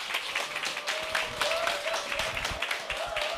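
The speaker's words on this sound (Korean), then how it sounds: "큰 박수 부탁드리겠습니다" An audience at a seminar on success and communication applauds steadily to welcome a speaker, with dense, continuous clapping at moderate volume for a few seconds.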